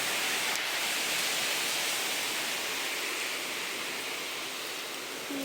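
Pounding rain drenches plants outdoors during the rainy season, a loud continuous hissing rush that eases only slightly toward the end, without speech.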